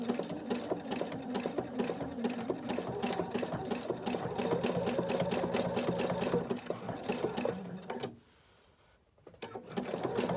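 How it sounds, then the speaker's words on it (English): Sewing machine running a small zigzag stitch around an appliqué flower on a coaster, a steady rapid close rattle that stops briefly near the end before restarting. "we're just doing a little small zigzag all the way around."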